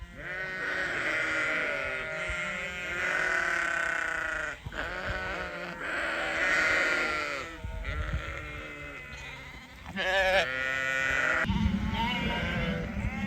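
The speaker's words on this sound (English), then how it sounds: "Just going to put a few shots in here of us gathering the sheep and lambs in." Sheep and lambs being gathered in on a farm bleat continuously, many close, overlapping calls rising and falling in loud, ragged waves with no talk.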